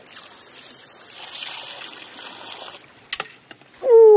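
Creek water flowing through a river sluice box lined with vortex-style dream matting: a soft steady trickle and rush, followed by a few sharp knocks and a brief louder sound at the end.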